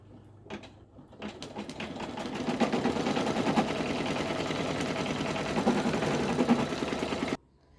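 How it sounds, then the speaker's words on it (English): Embroidery machine sewing a tack-down stitch for an in-the-hoop snap hand sanitizer holder, starting with a few clicks then settling into a steady, busy mechanical stitching hum that stops abruptly near the end. "Now it's going to stitch the tack down stitch."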